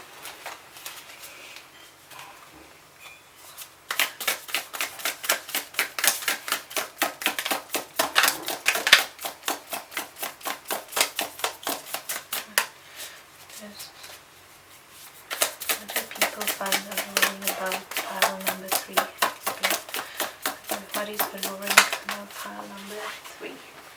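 Tarot cards being shuffled close up in two long runs of rapid, crisp riffling clicks, with a brief pause between the bursts.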